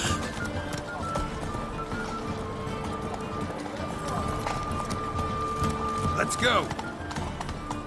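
Roach, Geralt's horse in the video game The Witcher 3, gallops with steady clip-clop hoofbeats under continuous game ambience, while someone speaks briefly and a rising whistle-like tone sounds near the end.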